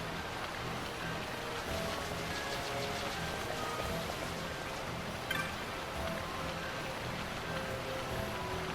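Rain falls in Final Fantasy XII as a soft, continuous patter on surfaces, steady and fairly quiet, with one brief sharper tap partway through and no voices.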